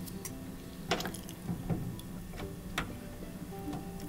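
A Miele washing machine's drain pump assembly being twisted counterclockwise by hand gives a few scattered close mechanical ticks and clicks over a faint steady background hum, with no talking.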